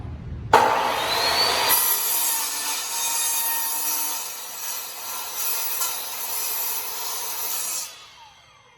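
Power saw slicing through a wooden coaster base, loud and close: a sharp motor whine spins up, then a steady rasping cut runs for about seven seconds before winding down, with no talking.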